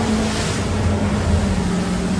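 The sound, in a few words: boat running through rough waves near a jetty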